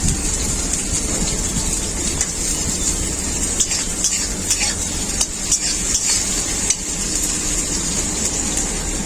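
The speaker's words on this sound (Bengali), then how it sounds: "ওই আলু ভাজা তেলেই পেঁয়াজ দিয়ে দেবো।" Onions sizzle in leftover oil from frying potatoes, a dense, loud, rain-like crackle with occasional stirring clatter, continuous and close without speech.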